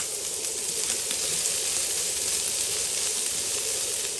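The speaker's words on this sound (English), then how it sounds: "So we've got the bacon going nicely there." Bacon sizzles steadily in a large frying pan, rendering fat, with a continuous close, even hiss and crackle that stays level throughout with no talk.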